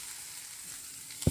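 Onions sizzle in a frying pan with a steady close hiss, broken near the end by a sharp clatter as something is stirred or added.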